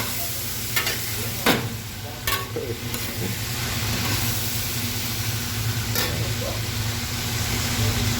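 Onion and garlic frying in a large pan, six kilograms of onion in a batch for vegetable spring rolls; a steady broad sizzle throughout, with a few sharp utensil scrapes and clanks standing out early on.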